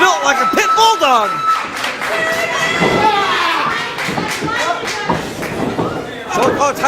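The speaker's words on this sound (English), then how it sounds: "Fans are getting into it here. Starting a little clap." Wrestling fans in an arena clap along during a match, scattered claps and crowd noise running beneath loud, fast commentary and shouting.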